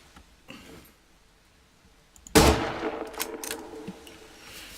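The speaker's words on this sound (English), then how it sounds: "Kar 98, second shot to the head." A single loud Kar 98 bolt-action rifle shot from the SCUM survival game cracks out sharply after a quiet stretch, followed by a decaying echo and a few smaller clanks and clicks.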